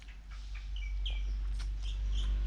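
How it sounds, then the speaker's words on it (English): Small birds chirping outdoors in Thailand, a handful of short bright tweets and calls scattered over a low steady background hum, fairly faint and without talk. "I'm beginning to wonder if some of these birds are going to start getting used to me"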